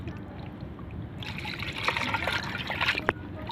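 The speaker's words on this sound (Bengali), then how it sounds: "এখন দিয়ে দিব পানি।" Water is poured onto chicken pieces that have been rubbed with chopped onion. The trickle starts after a moment of low kitchen noise and runs on steadily, with a few small splashes.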